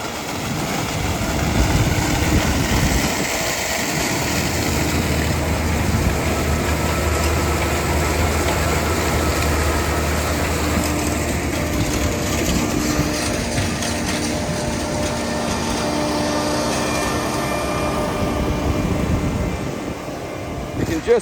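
A sugar beet harvester runs in a field with its tank auger turning: a loud continuous engine and machinery rumble with clattering throughout, someone speaking over it.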